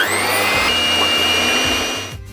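Two electric stand mixers whip cream with powdered sugar, a steady loud motor whine with a rhythmic low churning pulse throughout, cutting off abruptly at the end.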